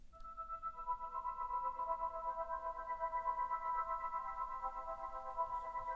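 An ambient pad synth run through the Beam granular plugin and reverb rings as a soft, sustained chord with a shimmering, grainy texture and a gently pulsing level throughout.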